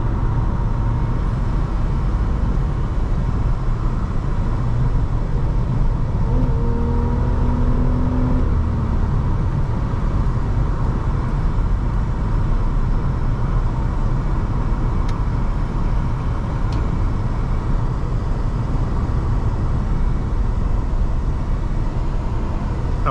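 A 2004 Nissan Maxima 3.5 SE accelerating on the road, heard from inside the cabin as a steady broadband engine and road roar with a low rising engine tone partway through, no talking.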